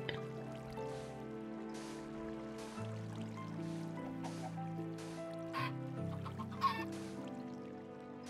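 A baby chicken in Minecraft clucks in short bursts over a steady, droning musical background, the clucks fairly faint and spaced irregularly.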